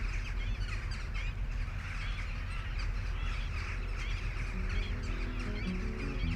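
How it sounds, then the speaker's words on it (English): A large flock of migratory geese calls across winter lakes on the Iberian Peninsula, many overlapping honks blending into a dense, continuous chorus over steady wind-like background noise. "when rainwater fills the lakes, that the large flocks of migratory birds will eventually arrive."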